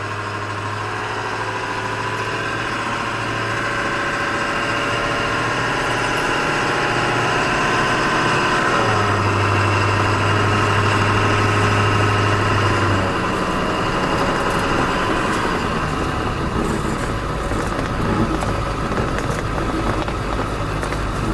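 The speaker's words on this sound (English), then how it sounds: "Sounds like a Power Stroke to me." A 1979 Ford F350 with a Power Stroke turbo diesel engine runs steadily and close, a loud low rumble with a droning hum and a pitch shift partway through as it moves off, with no voices.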